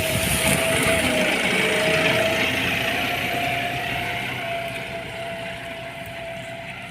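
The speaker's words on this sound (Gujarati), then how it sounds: "જો ટ્રેક્ટર આવે છે" A tractor engine on a farm, a steady droning hum with a faint whine that slowly fades as it recedes, with no talking.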